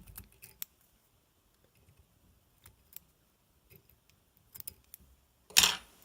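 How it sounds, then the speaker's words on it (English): Scissors snip fly-tying material on a hook while tying a hellgrammite fly pattern, giving a few sparse quiet clicks followed by one sharper, louder snip near the end, with no talking. "Trim this nice and neat to the front here."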